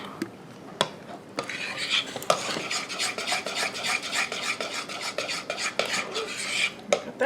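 A spoon or whisk scrapes and clatters steadily around a bowl as flour is stirred into strawberry cobbler batter, a close, continuous rhythmic mixing with occasional sharper clinks against the bowl.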